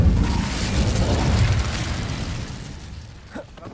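A fiery Incendio spell blast in the Hogwarts Legacy video game, a loud broad whoosh and boom that rolls out and slowly fades, with a short sharp burst near the end.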